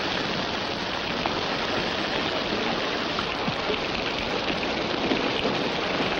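Heavy rain falling outdoors in a 1952 western film, a dense steady hiss of drops striking the ground that holds at an even, fairly loud level throughout with no voices.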